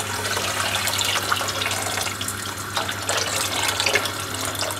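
Hot water pours into a cooking pot while a home-cooked main dish is prepared, making a continuous splashing, gushing stream of steady loudness with no speech over it.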